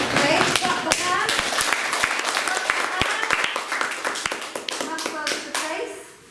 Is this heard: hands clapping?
yes